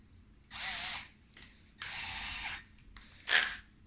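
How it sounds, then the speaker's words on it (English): A power drill with a 5/32 bit boring a hole in a tailwheel rod for a Pilot Edge 540 v3 20cc model plane, in three short bursts of whining, close and clear with pauses between. "I'm just going to drill that out now."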